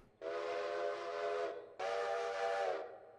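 Two long, steady blasts of a two-note steam locomotive whistle in the train game Railroader, loud and chordal, with a short gap between them and no talking.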